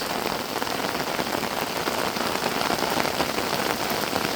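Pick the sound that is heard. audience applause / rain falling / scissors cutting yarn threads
rain falling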